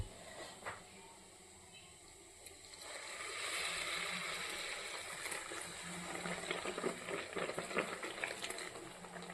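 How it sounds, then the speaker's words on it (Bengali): Amul milk poured over cooked carrots in a pot for Bengali carrot payesh: a soft, faint pour and bubbling that swells after a quiet start and carries on steadily. "এবার আমি দুধটা ঢেলে দেব।"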